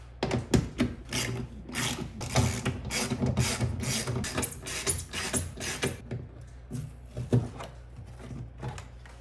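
Ratcheting and clicking of a tool backing out 10mm bolts around the factory 6.5-inch speaker in a Mazda CX-3 rear door, with repeated close mechanical clicks and rubbing bursts in a steady rhythm, no voices.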